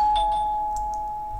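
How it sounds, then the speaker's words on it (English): Doorbell sound effect in a Unity 3D interaction demo, a single clear electronic chime tone sustained and slowly fading, heard alone. "and that's the doorbell"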